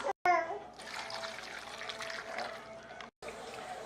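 Water pours steadily into a pot for a few seconds, a continuous trickling splash close by, briefly cut off at the start and end.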